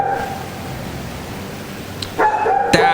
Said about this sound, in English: my lame as crap neighbor has a dog. And this dog sounded like this at 4 o'clock in the morning this morning.